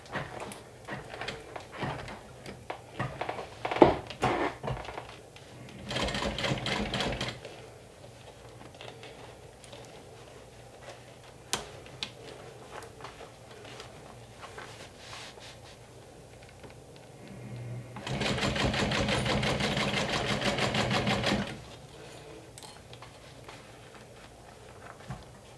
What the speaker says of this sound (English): So now I'm basically stitching with an 1/8 of an inch seam allowance